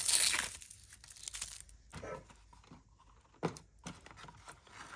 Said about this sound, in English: So I'm just going to tear off this paper.